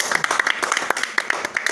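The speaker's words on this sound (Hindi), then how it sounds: "इसलिए आप लोग ताली बजाइए।" An audience claps at a motivational youth talk: a dense, steady patter of many hands close by, without a break for the whole short stretch.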